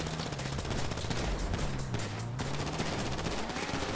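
Rapid, continuous gunfire from several weapons in GTA V on Xbox One, a dense unbroken barrage of overlapping shots that stays loud for the whole stretch.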